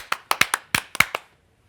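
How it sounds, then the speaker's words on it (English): Eight sharp hand claps in a quick, slightly uneven rhythm, close and clear, with no talking. "Everybody clap your hands."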